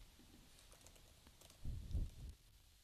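Soft typing on a computer keyboard while entering code, faint light key taps followed by a slightly louder, denser flurry of keystrokes near the end, heard close and alone.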